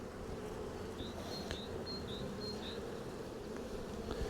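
Honeybees hum steadily throughout inside an opened beehive during a hive inspection, a dense close buzz with a few brief higher whines of individual bees passing near.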